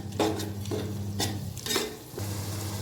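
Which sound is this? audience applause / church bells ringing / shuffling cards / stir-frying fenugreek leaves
stir-frying fenugreek leaves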